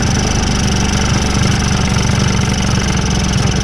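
A Honda Spree scooter fitted with a big bore kit idles a little high, giving a loud, steady, buzzing small-engine drone that runs throughout at close range.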